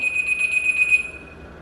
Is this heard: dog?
no